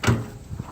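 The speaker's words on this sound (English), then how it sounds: "that's all you need to open the door" The door of a Suzuki Samurai opens with a single sharp clunk up close, followed by a faint rattle and scrape as it swings.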